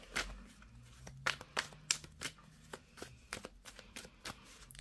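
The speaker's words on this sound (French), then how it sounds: "Je vais bien sûr placer les cartes aussi." Tarot cards are shuffled and laid out, giving soft close riffles, flicks and papery slaps in an irregular rhythm, quiet and without talk.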